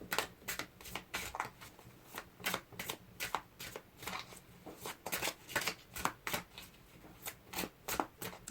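Tarot cards are handled and shuffled close by in a steady run of soft riffling slaps and papery flicks, repeating rhythmically at low volume with no talk over them.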